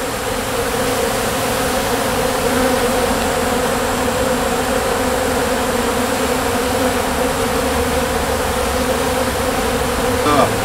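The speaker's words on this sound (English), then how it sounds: "they had a lot of bees, they had a lot of robbing going on" Dense honey bee buzzing fills a hive cutout at a juvenile detention center where heavy robbing is underway, a loud continuous close swarm drone with no pauses.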